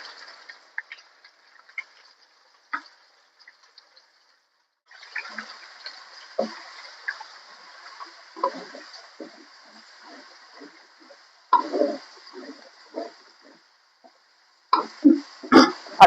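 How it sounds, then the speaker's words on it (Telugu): Ginger garlic paste frying in oil in a pan while chicken pickle is being made: faint, scattered crackles and sputtering pops come in bursts, broken by quiet gaps. "ఇప్పుడు మనము 2 చెంచాలు అట్లా అల్లం వెల్లిగడ్డ పేస్ట్ మంచిగా ఫ్రై చేసుకోవాలి."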